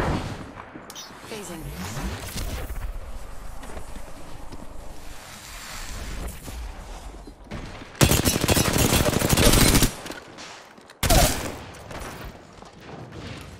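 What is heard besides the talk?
gunfire in Apex Legends video game, Kings Canyon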